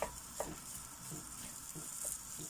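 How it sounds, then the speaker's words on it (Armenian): Food frying in oil in a home kitchen pan, giving a steady quiet sizzle with a few soft stirring scrapes and light clinks spread through the clip, no talking. "հիմա մի քիչ էլ իրան այսպես յուղով տապակելուց հետո"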